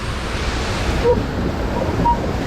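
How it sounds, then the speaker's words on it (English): Water rushes loudly and steadily on the rapids ride at Lightwater Valley theme park, a close, broad splashing roar with no talk. "A good fun ride there on the rapids here at Lightwater Valley."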